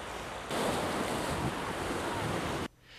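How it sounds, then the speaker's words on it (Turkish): Strong lodos wind and sea waves on the coast roar in a loud broadband rush that holds steady for about two seconds, then drops abruptly to a quieter background. "Hafta sonundan bu yana etkisini sürdüren ve hızı zaman zaman 40 kilometreye ulaşan Lodos"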